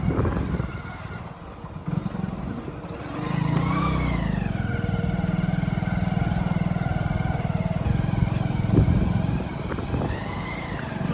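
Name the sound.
motorcycle engine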